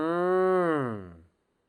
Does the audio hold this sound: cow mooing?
yes